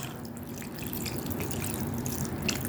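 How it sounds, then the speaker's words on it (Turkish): Tomato paste sauce pours over Kilis-style forest kebab before it goes into the oven, a steady close trickle and dribble of liquid with light drips throughout. "Şimdi üzerine salçalı suyumuzu döküyoruz"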